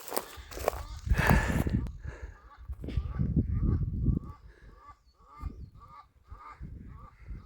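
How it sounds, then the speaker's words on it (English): An Egyptian goose honks repeatedly on a forest hike, with loud harsh calls up close at first, then a run of quicker, quieter honks, along with footsteps and some rustling. "It's not a duck, it's an Egyptian goose."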